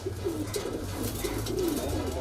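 A high-flyer kalpare pigeon in a loft coos in soft, repeated rolling phrases, close and continuous over a low background hum.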